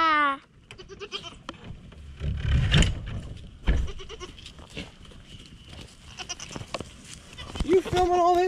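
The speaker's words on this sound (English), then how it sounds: "You filming the goats?" Several goats bleat on a farm in loud, repeated wavering cries scattered through the clip, with people talking over and between the calls.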